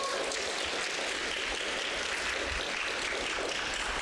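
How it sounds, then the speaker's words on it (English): A church congregation gives a round of applause, a dense, continuous wash of clapping that holds steady and fairly loud with no voices over it. "a round of applause for Ariel"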